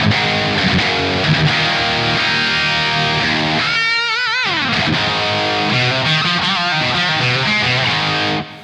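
A Gibson Slash Victoria Les Paul electric guitar rings out with distortion, playing thick, sustained gain-heavy chords and notes, including a wavering bend midway, loud and close until an abrupt stop.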